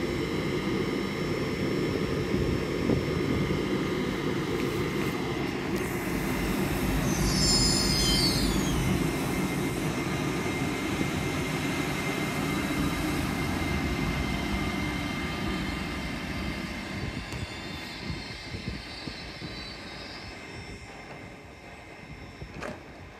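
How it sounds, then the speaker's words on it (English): LNER Azuma train departing Newark Northgate station: a steady, fairly distant rumble and engine drone that swells and then slowly fades, with a faint high squeal partway through. "departing now will be the 1056 LNER Azima service"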